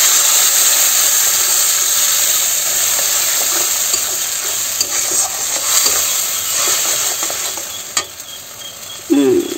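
Spice paste with ground mustard stir-fried in a pan for a mustard climbing perch dish gives a loud, steady frying hiss up close, broken by occasional utensil clinks and scrapes.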